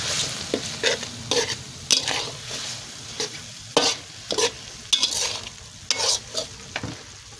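Pad kaphrao stir-fry sizzles loudly in a pan with sauce added, while a utensil scrapes and stirs it in repeated rhythmic strokes. The sound sits close, with no talking.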